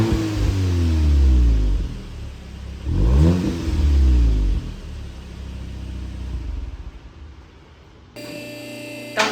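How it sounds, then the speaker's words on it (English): A Volkswagen MK8 GTI on its stock exhaust revs twice, each a deep rising then falling engine surge, with a low idle rumble between and a hum at the end. "Here's a quick clip of stock exhaust just idling"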